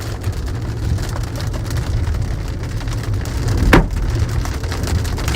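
Large hail pounding a car roof during a Kansas supercell storm, a dense steady clatter of impacts with one sharper, louder strike partway through, no voices.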